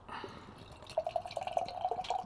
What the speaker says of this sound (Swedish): Häll upp.